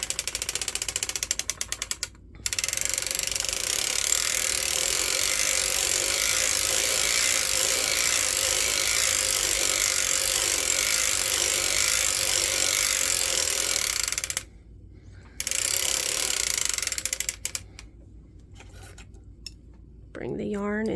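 A circular sock machine knitting a 48-stitch sock is cranked slowly, giving a steady dense mechanical clatter of needles and ratcheting gears that runs nearly continuously, broken by a few short pauses.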